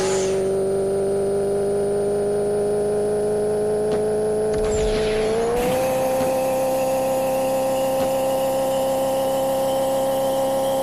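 Race car engine in a video game race, a steady, loud droning hum that briefly swells and shifts slightly higher in pitch partway through, with no voices.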